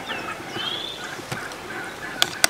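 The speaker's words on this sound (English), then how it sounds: "I see the turkeys, though." Wild turkey toms gobble faintly in the distance among outdoor ambience during a hunt on a private property edge, with a couple of sharp clicks near the end.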